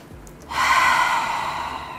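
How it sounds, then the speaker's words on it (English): A single deep breath drawn in sharply and then held as a long, steady, close exhale, with no talking around it. "Take a deep breath"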